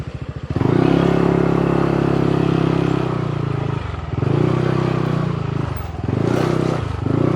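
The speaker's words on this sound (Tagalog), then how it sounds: "Park lang natin yung motor dito." A motorcycle rides up close and loud with a steady engine drone and hum, dips briefly as it slows and stops, then revs and idles again with some rattling while being parked at a seaside resort in rural Quezon.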